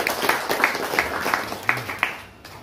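A small audience gives applause, a scattered burst of hand claps with distinct individual claps that tapers off toward the end.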